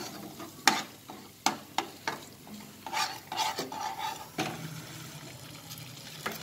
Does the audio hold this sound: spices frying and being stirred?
yes